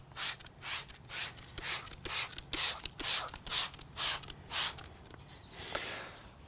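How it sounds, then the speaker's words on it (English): Tire dressing sprayed from a trigger spray bottle onto a car tire, about a dozen quick hissing bursts in a steady rhythm, close and fairly soft, with a faint low hum beneath. "I'm also going to spray tire on the tire."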